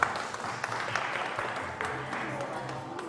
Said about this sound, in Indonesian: Oke, kita beri tepuk tangan boleh Bapak Ibu semua.